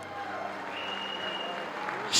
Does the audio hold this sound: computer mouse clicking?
no